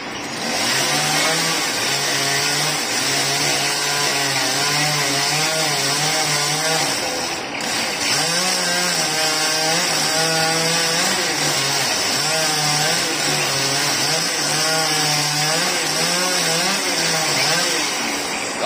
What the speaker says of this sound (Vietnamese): Rồi bắt đầu là anh cưa nha.